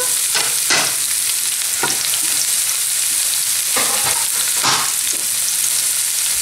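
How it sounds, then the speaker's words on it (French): Minced shallots frying in oil in a non-stick pan, a loud continuous sizzle with a few scraping stirs of a utensil at intervals. "je mets de l'échalote émincée dans cette huile"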